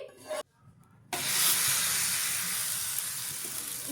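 A loud, steady sizzle of oil frying a thalipeeth flatbread on a hot griddle starts after a brief lull and carries on, crackling and hissing continuously.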